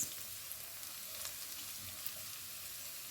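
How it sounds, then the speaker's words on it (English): Chopped garlic and plantain stir fry in a pan for a plantain and egg frittata, a quiet, even hissing sizzle with faint scattered crackles throughout. "And I stir fry both for another minute."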